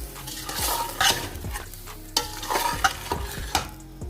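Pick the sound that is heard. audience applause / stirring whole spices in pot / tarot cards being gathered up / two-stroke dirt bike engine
stirring whole spices in pot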